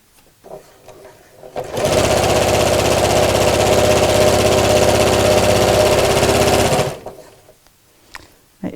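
A sewing machine stitches the side seam of a fabric drawstring beach bag in one continuous run of about five seconds, a fast steady mechanical whirr close up, with quiet handling noises before and after.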